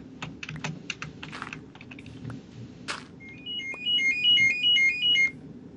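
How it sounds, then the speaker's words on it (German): A mobile phone rings with a bright, repeating electronic melody, loud and near, just after a burst of rapid computer keyboard typing. "Ich lass es klingeln."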